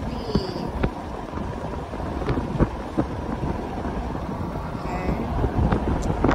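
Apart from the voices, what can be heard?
strong cold wind blowing on microphone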